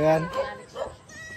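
A goat on a farm in Guimba, Nueva Ecija gives a short, close bleat, with people talking around it.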